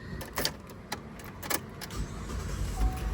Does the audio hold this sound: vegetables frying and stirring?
no